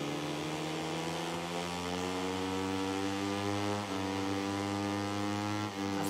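A four-cylinder racing motorcycle in the MotoGP 2020 game holds a sustained, buzzing engine drone at a nearly constant pitch, with brief dips near the end as the throttle shifts.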